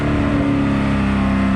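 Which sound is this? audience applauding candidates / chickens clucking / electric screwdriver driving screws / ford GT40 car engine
ford GT40 car engine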